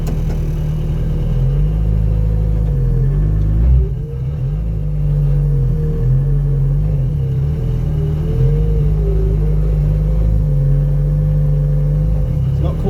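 A Citroen Saxo VTS Turbo making over 330 bhp, on its first drive, gives a loud, close droning engine rumble with repeated rises and dips in revs throughout.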